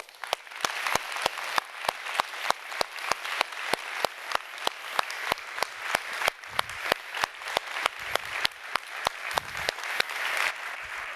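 Audience applause as a physics lecturer takes the stage at a lecture hall, a dense, steady roomful of clapping that carries on for about eleven seconds at even volume.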